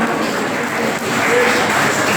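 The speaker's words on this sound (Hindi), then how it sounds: "तालियों की गड़गड़ाहट के साथ सम्मानित करते हुए डॉक्टर राजेश नैथानी जी" A seminar audience breaks into loud, continuous applause, with dense clapping filling the whole short stretch without pause.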